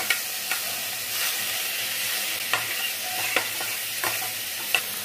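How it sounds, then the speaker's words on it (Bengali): Masoor lentils frying in a pan with turmeric and salt, a steady close sizzle broken by scraping stirs at irregular intervals, with no voices. "মসুরির ডালটা দিয়ে দিচ্ছি। ভালো করে এবার ভাজতে হবে"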